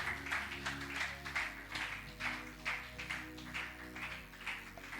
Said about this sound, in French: you celebrate the love of God by giving him a round of applause?